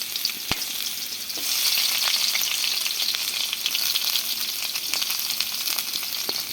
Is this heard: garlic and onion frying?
yes